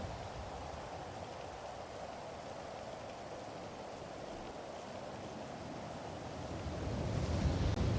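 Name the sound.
rain in the video game Quiet City RP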